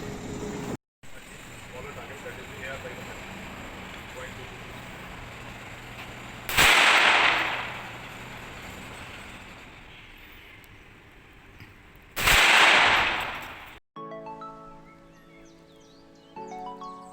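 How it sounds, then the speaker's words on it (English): Two .22 gunshots fired at angled 10 mm steel plates, loud bursts about six seconds apart, each trailing into a short ringing echo over steady outdoor background noise. "So we see here now the shots have just been fired and we've come to the plate."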